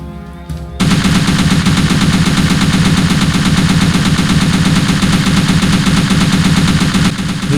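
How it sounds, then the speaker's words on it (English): A DP-28 machine gun firing at targets on a training range in the World War II game Faces of War, one long, loud, unbroken burst of rapid shots that runs for several seconds close up. "Take your position in the firing line and use a machine gun to hit the targets."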